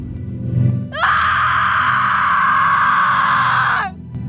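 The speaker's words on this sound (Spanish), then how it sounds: "Emite un grito de horror femenino lleno de dolor y terror." A woman's scream of horror and pain as a sound effect, one loud, piercing, sustained shriek lasting about three seconds, starting and cutting off abruptly.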